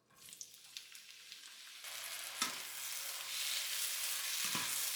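Ten ounces of shiitake mushrooms hitting hot oil in a pan for a spinach stir fry: a few faint clatters give way to a steady hissing sizzle that grows louder, with stirring scrapes and no talking.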